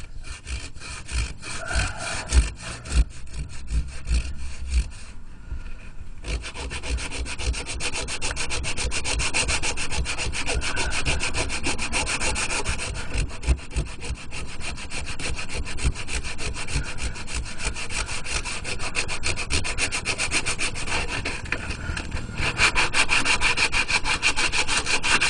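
Hand sanding of filler on a helmet being restored, a close, steady rasping rub in quick back-and-forth strokes that runs almost nonstop, pausing once near the start.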